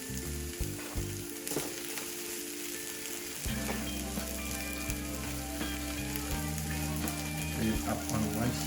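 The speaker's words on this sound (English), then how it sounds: "You could hear that sizzle." Vegetables sizzle steadily in a hot pan beside salmon, a close crackling fry with occasional stirring clinks.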